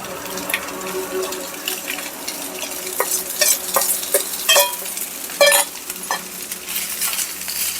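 Leftover rice being stirred and tossed in a hot pan with other ingredients for fried rice: a steady soft sizzle broken by repeated scraping clatters of the spatula against the pan, close and fairly loud, with no talking.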